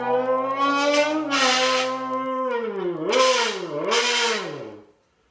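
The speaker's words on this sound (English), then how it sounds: "how to make a car noise with a pop can" A bent pop can made to sound like a car: a buzzy, harmonic drone that holds steady, then rises and falls in revving swoops before cutting off, fairly close.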